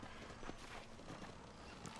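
Horse hooves clip-clopping in the Western video game Red Dead Redemption, a steady walking clatter of hoof steps under a dense wash of game ambience, moderately close and unbroken for the full stretch.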